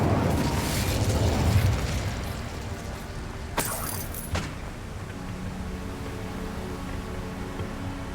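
Incendio fire spell cast in Hogwarts Legacy, a sharp burst of flame with a crackling rush that fades into a low, rumbling ambient bed, with a second smaller burst a moment later.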